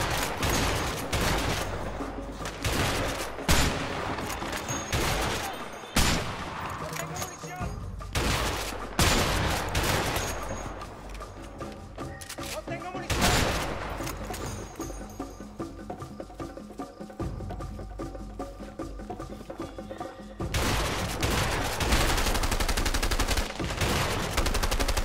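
Sniper rifle gunfire in the video game A Way Out, with loud shots repeating amid a busy, sustained firefight and heavy bursts through most of the stretch.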